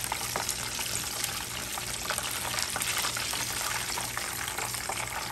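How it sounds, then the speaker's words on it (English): Turkey wing flats deep-frying in oil, giving a steady, dense bubbling sizzle with fine crackles that holds evenly throughout, with no talking. "then I'm gonna fry the rest"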